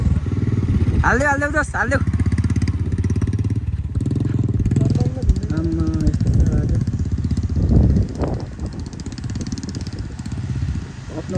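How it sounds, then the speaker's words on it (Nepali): A motorcycle engine catches after a struggle to start and keeps running with a rough, uneven putter, close by, while several people shout and talk over it on a muddy trail. "फाइनली स्टार्ट भयो बाइक चाहिँ।"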